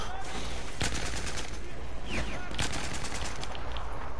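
Dense video game gunfire, rapid overlapping bursts and single shots forming a continuous loud barrage throughout, with a voice briefly talking over the shooting.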